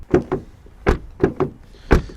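Several short knocking, clunking thuds spaced unevenly across a couple of seconds, as a Chevrolet Epica car door is worked open and handled up close.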